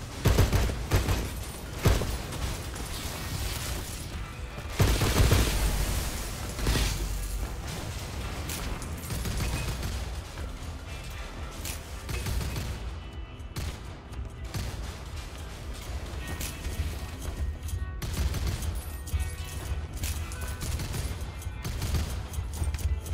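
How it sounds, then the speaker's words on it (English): Rapid gunfire in the video game Soulslinger: Envoy, dense bursts of shots and booms that are loud at first and continue steadily through a busy battle mix, with occasional talking underneath. "Shooting that guy's dead body"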